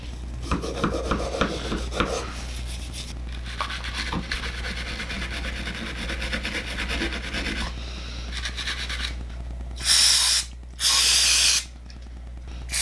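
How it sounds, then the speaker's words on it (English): A small brush scrubs grime off a Keltec PMR30 .22 WMR pistol with a plastic frame, making close, continuous rubbing and rasping strokes. Two brief, loud hissing bursts follow near the end. "Get a little brush. Get any grime"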